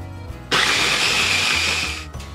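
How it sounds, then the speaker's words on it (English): A blender whirs loudly for about a second and a half, grinding a fish sauce and shrimp paste mixture for kerabu salad, starting abruptly and cutting off cleanly with quiet kitchen background before and after. "Now we just want to blend this until it's a fine paste."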